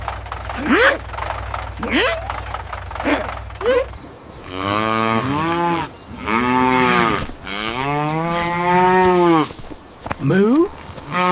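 A cartoon cow lets out long, loud, wavering moos, several drawn-out calls in a row, after a few short vocal yelps at the start.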